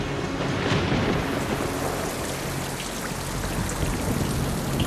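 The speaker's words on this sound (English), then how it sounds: "when condensation occurs on this planet, it rains methane." Steady heavy rain pours down continuously, with a dense hiss of drops on surfaces and a faint low rumble beneath, evoking methane rain on Titan.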